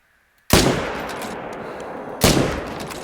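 Rifle shots fired while hunting in the savannah in the video game Call of the Wild, two loud booming reports about two seconds apart, each with a long echoing decay and no talk.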